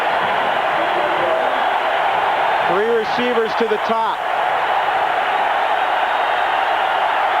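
Dense, steady stadium crowd roar at a 1994 Colorado State college football game against Arizona, loud and continuous throughout, with an announcer talking over it.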